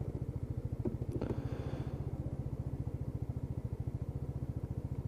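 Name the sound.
Lexmoto Titan motorcycle engine idling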